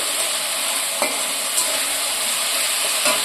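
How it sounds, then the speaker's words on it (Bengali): Spice masala frying and being stirred in hot oil that has separated out, a steady close sizzle with a few soft scraping strokes of the spoon, no voices. "মশলাগুলো কষতে কষতে কিন্তু তেল ছেড়ে দিয়েছে"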